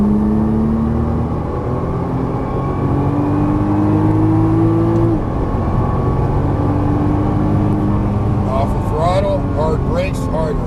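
A Nissan GT-R accelerates on throttle during on-track driving, its engine droning loudly and steadily with rising tones, while a voice talks over it near the end.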